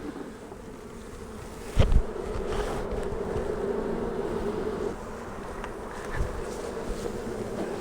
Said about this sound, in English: Let these bees get settled out.